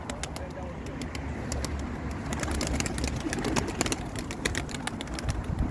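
Pigeons coo and flutter nearby amid a dense, clattery background of clicks and taps, with people talking under the birds.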